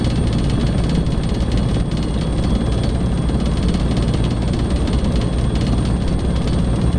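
A helicopter in a desktop flight simulator game drones steadily as it begins a turn in a holding pattern. The rotor and engine roar is continuous, loud and even, with no pauses.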